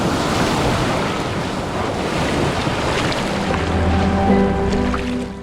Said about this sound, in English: Oh my god, I'm getting bombarded here by the waves.